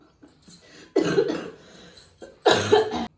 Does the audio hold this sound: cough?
yes